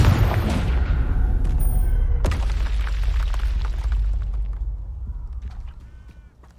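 A Confringo fire-spell blast in Hogwarts Legacy combat, a loud close explosive boom with a sharp crack a couple of seconds in, then a rumbling tail that slowly fades away toward quiet.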